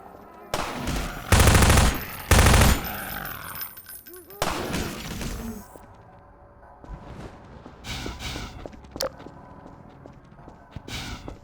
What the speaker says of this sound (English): It also gives the player a chance to watch zombies get sniped up close and from various angles.